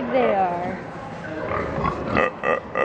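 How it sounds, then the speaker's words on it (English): Pigs at a county fair livestock pen snort in short, close, breathy bursts toward the end, after a stretch of people talking over the animals. "That one's snorting at you."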